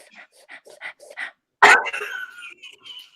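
A person imitates a dog, letting out one sharp, loud bark-like yelp that trails off, preceded by a string of soft panting or whimpering sounds in a quiet room.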